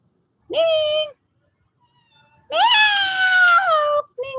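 A cat meows indoors on a rainy day: a short, clear meow followed by a longer, louder drawn-out meow and the start of another, close and alone without talk.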